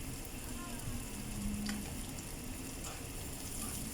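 Garlic and onion sautéing in a pan give a soft, steady sizzle with faint crackles and brief clinks of a utensil, fairly quiet and continuous.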